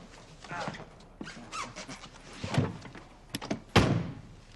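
A closed door takes a dull thunk as someone walks into it, a single solid knock near the end after softer shuffling and creaks, heard alone without talk.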